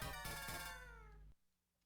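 A cat companion in the Pokemon Red Rescue Team video game gives a single short synthesized meow that slides downward and fades, quiet and alone before cutting off.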